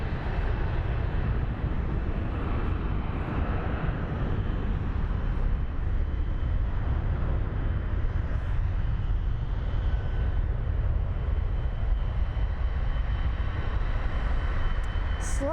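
A Boeing 777F cargo jet taxis slowly at Frankfurt airport, its engines giving a loud, steady, broadband roar that holds evenly throughout without pauses.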